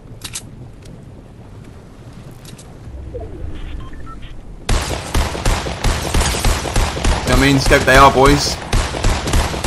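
Rapid gunfire from a weapon in the Fortnite video game, a dense run of sharp repeated shots starting abruptly midway and continuing to the end, with someone talking excitedly over the shooting.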